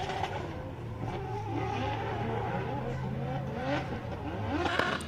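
Karim Jahan's rally car at the 2024 CFD final with anti-lag set very high, accelerating hard past the grandstand: a loud, continuous engine roar climbing in pitch, with rough popping and tire noise, nearby and steady throughout.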